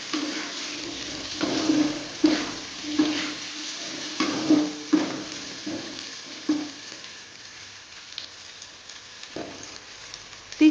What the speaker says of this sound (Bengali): এবার একটু নাড়াচাড়া করে নেব আলুটা দিয়ে।